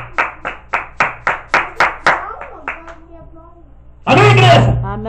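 A church congregation clapping for Jesus Christ: about ten sharp, evenly spaced claps ring out close and loud, then a loud burst of voices and cheering breaks in.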